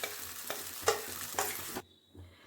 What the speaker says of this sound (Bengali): ছেড়ে দেওয়া হলো বেটে রাখা ডাল।